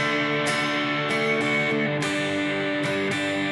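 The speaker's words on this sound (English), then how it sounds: "The transition played all together in slow." An electric guitar plays a slow chord transition from a song: a handful of spaced strums, each left to ring out, loud and close with no voices.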